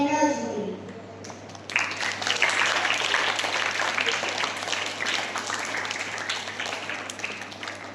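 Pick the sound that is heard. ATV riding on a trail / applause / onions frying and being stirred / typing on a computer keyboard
applause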